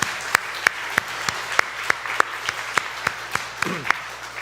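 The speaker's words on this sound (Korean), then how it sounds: "수고한 모든 분들께 그래서 오늘 박수 한번 쳐드렸으면 좋겠습니다" A small church congregation claps in slow, evenly spaced unison beats during a Sunday service, about a dozen crisp, close hand claps with a faint murmur underneath.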